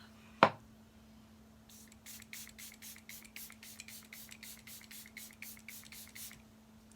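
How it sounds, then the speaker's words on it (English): A sharp spray burst, then a quick series of rapid, rhythmic spritzes of Glow Recipe Watermelon face mist close by, over a faint steady hum. "So I'm using the Glow Recipe Watermelon Spray."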